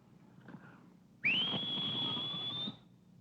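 A person whistles one long, steady, fairly loud high note that holds for about a second and a half, after a brief quiet stretch with faint background murmur.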